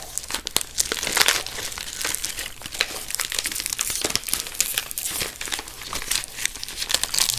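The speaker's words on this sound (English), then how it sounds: "Freeing it from its envelope." Paper envelope being torn open and crumpled, a steady run of close, loud crinkling and rustling with sharp tearing bursts throughout, no talking.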